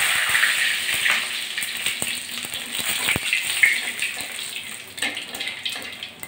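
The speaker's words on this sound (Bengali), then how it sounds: "আমি ডালের ভিতরে এই যে সাদা জিরে ফোড়ন দিচ্ছি" Cumin seeds and two dried chillies sizzling in hot oil for tempering dal, a steady crackling hiss with scattered pops, fairly close and heard without talk.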